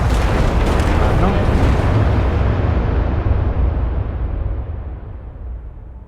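A spaceship blows up in the Starfield video game: a loud, heavy rumbling explosion that roars at full strength for a couple of seconds, then slowly fades out over several more seconds.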